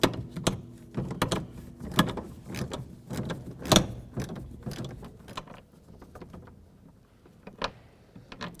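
Bolts are backed out from behind a 2007-14 Ford Edge front door panel, giving a string of close, sharp ratcheting clicks and mechanical clatter in irregular bursts with no talking.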